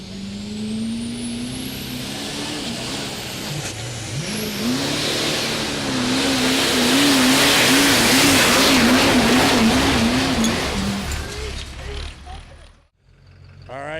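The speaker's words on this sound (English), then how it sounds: "Truck looked like it was running hard." A diesel truck at the 2018 Diesel Power Challenge revs hard through a sled pull, its loud engine surging and warbling, with a rising roar and some background voices before it drops away near the end.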